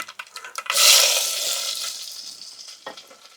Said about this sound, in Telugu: ఇప్పుడైతే తాలింపు పెట్టుకుందాము అలా వేస్తున్నాను ఆవాలు జీలకర్ర